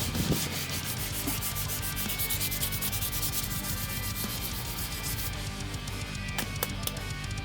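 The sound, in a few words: sanding the edges of a wooden tabletop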